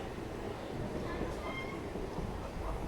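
A passenger train halts at Kanpur Anwarganj station, with a steady, fairly faint rumble of rail and platform noise and indistinct murmuring voices underneath.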